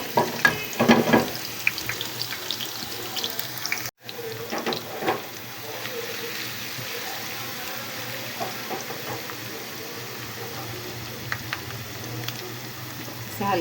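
Onion, garlic and ginger fry steadily in a hot pan for dal, a continuous close sizzle with occasional stirring clatter and a brief break near the four-second mark.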